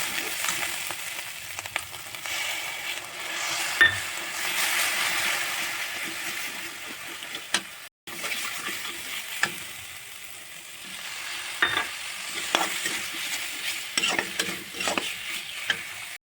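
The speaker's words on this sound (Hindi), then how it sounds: "फिर यहाँ पे हमने जो प्याज पीस के रखा था उसे भी डाल दिया है, प्याज का पेस्ट। उसे हम अच्छे से फ्राई करेंगे" Onion paste fries in a pan while a spoon stirs and scrapes it, giving a steady sizzle broken by irregular scraping strokes, with a brief break midway.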